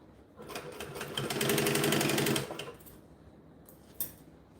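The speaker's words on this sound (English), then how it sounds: "My machine does seem to like sewing it." A sewing machine stitches bonded nylon fabric in a fast, steady mechanical whir that swells louder for about a second, then eases back to a quieter hum, with a sharp knock near the end.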